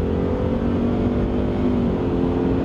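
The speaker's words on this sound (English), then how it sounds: "Watch the acceleration here. Foot down." A Ford F-150 PowerBoost hybrid truck, a 430-horsepower pickup, accelerating hard with full throttle, giving a steady, loud engine and drivetrain roar that holds throughout without talk.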